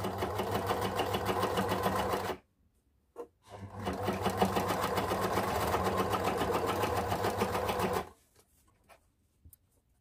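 A sewing machine stitches elastic onto fabric for abaya and sarwal finishes, running in a steady, fast, close whir for about two seconds. It pauses with a faint click, then runs again for several seconds before stopping.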